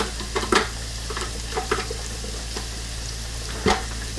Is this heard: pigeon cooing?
no